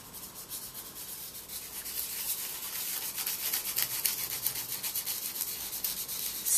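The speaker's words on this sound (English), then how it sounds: "take a piece of sandpaper that you've got in your pack" Sandpaper rubbed by hand over an acrylic sheet while making a tea light holder, a continuous fine scratchy rasp with quick back-and-forth strokes that grows slightly louder, close and quiet, no talk.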